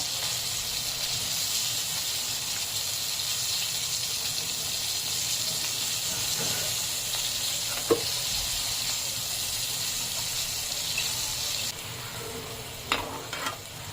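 Fish frying in oil in a pan over a low gas flame, a steady close sizzle and hiss throughout, with a few sharp clinks and scrapes of the fish being turned near the end.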